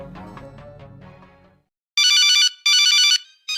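A mobile phone rings with two long electronic tone bursts and the start of a third, loud and close, following a short stretch of plucked musical sound and a brief silence.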